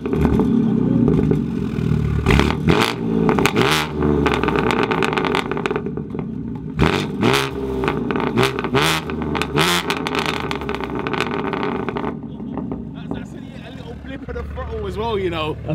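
A BMW M3 engine gives short throttle blips and revs, rising and falling amid someone talking over it nearby.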